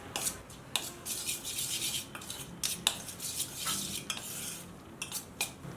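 A spoon mixes peanut powder and roasted gram powder in a bowl, making close metallic scraping and clinking strokes in an irregular rhythm. No one speaks.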